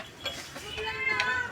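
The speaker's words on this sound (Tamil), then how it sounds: "ஏம்மா நம்ம பூனை இப்படி கத்துது?" A cat that is about to give birth meows in a short, faint, drawn-out cry with low background noise.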